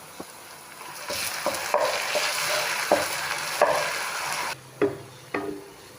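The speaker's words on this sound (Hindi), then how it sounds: "अब मैं इसमें 1 टेबलस्पून भर के लहसुन और सब्ज़ मिर्च का पेस्ट डालूँगी और इसको 1 मिनट के लिए फ्राई करूँगी।" Garlic and green chili paste fries in a hot pan with steady sizzling, punctuated by several sharp scraping and stirring knocks from a spoon, close and alone without talk.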